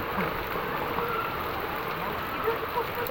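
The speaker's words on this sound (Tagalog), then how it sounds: "sobrang lakas po ng ulan" Heavy rain pours down outdoors, a dense, steady hiss of drops striking surfaces that stays loud and close without a break.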